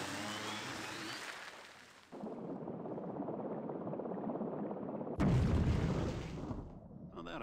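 A torpedo explodes underwater in Indiana Jones and the Infernal Machine at Palawan Lagoon: a low, churning rumble that swells, then a heavy boom bursts and slowly fades.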